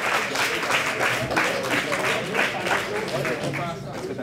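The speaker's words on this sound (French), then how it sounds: "Allez, on les applaudit." Applause for a competing team of engineering students at the Hydro Québec Défi Civil Action 2015, steady clapping from a crowd that runs throughout, with voices mixed in.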